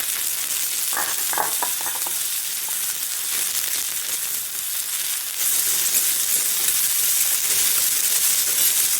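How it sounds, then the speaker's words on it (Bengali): Potatoes frying in hot oil give a loud, continuous sizzling hiss, with a few brief stirring clinks early on and the sizzle growing slightly louder midway. "তেলের মধ্যেই আলু দেবো এমনিতেই লাল লাল হয়ে ভাজা হয়ে যাবে"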